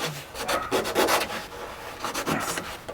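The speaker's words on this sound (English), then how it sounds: "I'm just going to go around just sanding spots that are like sharp." Coarse 80-grit sandpaper is rubbed by hand over sharp spots on a Mistral Superlight windsurf board, making quick, close scratchy strokes in irregular bursts.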